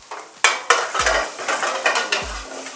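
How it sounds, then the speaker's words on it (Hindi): Cumin seeds and chopped garlic fry in hot oil for a tadka in Jharkhand-style home cooking: a close, steady sizzle with spoon scrapes and metallic clinks against the pan as it is stirred. "छौंका लगाया गया, थोड़ा सा तड़का लगेगा इसमें जीरे का।"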